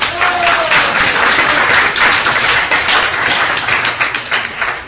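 A crowd at a religious gathering claps loudly and steadily for several seconds, a dense close wash of hand claps with little variation.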